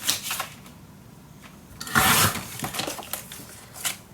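Paper being cut for a scrapbook mini album page, heard as scattered dry snips and rustles that swell into a louder burst of crisp cutting and handling midway, close to the ear with no talking.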